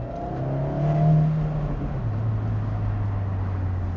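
Engine of a Fiat 124 Spider Italian sports car revving moderately, a low droning note that rises and then settles into a steady lower hum, fairly close and without talk.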